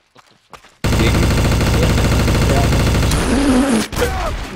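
Sustained automatic gunfire in the first-person shooter Trouble in Terrorist Town, a loud unbroken stream of rapid shots starting abruptly after a quiet moment and roaring on to the end.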